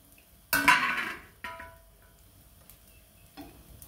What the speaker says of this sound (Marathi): आपण झाकण काढून घेऊया.